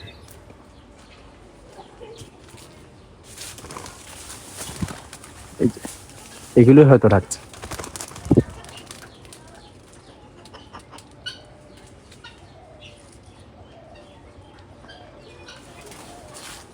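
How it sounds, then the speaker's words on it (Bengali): Soft cooing from doves outdoors on a farm, one clear harmonic coo in the middle, with a person speaking briefly and rustling around. "ঘুঘুর ডাক কিন্তু অনেক সুন্দর"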